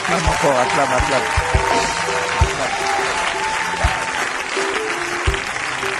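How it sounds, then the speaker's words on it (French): A church congregation applauds loudly and continuously, a dense wash of clapping with singing and voices carrying through it. "acclame encore, acclame"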